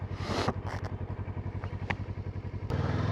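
A Kawasaki ER6F motorcycle ridden on a snowy road at 0°C, its engine a steady low pulsing drone with a few scrapes and clatters, fairly close, no speech.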